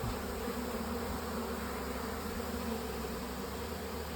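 A good-sized honeybee swarm fills a swarm trap with new comb, giving a dense, steady, close buzz that holds unbroken from start to end.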